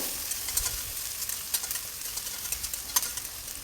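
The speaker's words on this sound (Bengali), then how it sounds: "পেঁয়াজ কুচি দিয়ে দেব পেঁয়াজগুলো ব্রাউন কালার না হওয়া পর্যন্ত ভাজতে থাকবো" Chopped onions fry in hot oil with black cumin and garlic, giving a soft steady sizzle broken by light stirring scrapes at a close, quiet level, with no talking.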